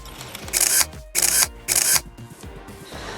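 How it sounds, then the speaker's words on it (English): A single-lens reflex camera fires a burst of bracketed exposures, three loud mechanical shutter clatters in quick succession with quieter clicks trailing after, close and without talk. "now you're going to hear it when I press the shutter button. You're going to hear it automatically take 5 different pictures"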